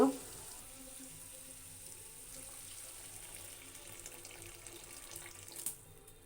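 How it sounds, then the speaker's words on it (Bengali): Hot water is poured into a pan of potato and egg curry, producing a faint, steady running-water flow with light sizzling underneath and a brief louder splash near the end. "এবার আমি কিছুটা গরম পানি এখানে অ্যাড করব।"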